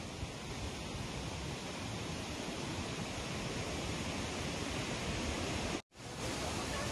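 Inglis Falls, a waterfall near Owen Sound, roars as a steady broadband rush of falling water. It is loud and unbroken apart from one brief dropout.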